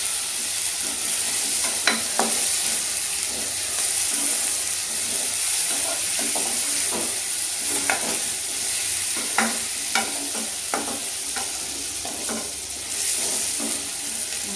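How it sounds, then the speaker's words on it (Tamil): Steady sizzling of eggplant frying in a pan, with occasional stirring clicks and scrapes throughout, close and fairly loud, no talking. "கத்திரிக்காய் வணங்கி வரட்டும்"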